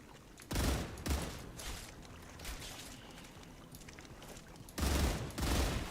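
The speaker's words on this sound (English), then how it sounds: "There's a mortar somewhere." Mortar fire in the video game StarRupture, a few heavy booming blasts in bursts with noisy decaying tails, loud and close, alone without talk.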